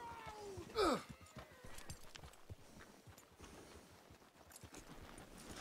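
Horse hooves clip-clop steadily at a walking pace in the video game Red Dead Redemption 2, with a brief sharp squeal near the start and a faint background ambience.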